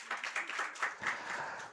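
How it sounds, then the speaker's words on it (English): Clapping from an audience at a gender equality bell-ringing event, a short burst of moderately loud, steady applause with no talk. "Clap for that."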